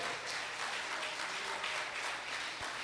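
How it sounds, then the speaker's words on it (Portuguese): Church congregation applauding during a sermon, a steady, dense wash of many hands clapping that fills the whole stretch without pause. "Aplauda ele."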